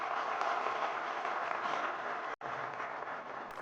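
Audience applause fills a hall at a defence seminar and exhibition, a steady dense patter of many hands clapping at moderate level, with a brief cut near the end before the clapping resumes.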